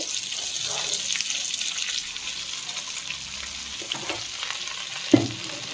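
Oil frying steadily in a pan with curry leaves and drumstick leaves, a continuous close hiss with a few brief pops and a sharper crackle near the end, no voices.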